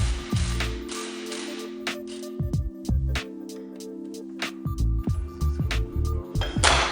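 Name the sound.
disassembling a Honda Civic brake caliper with tools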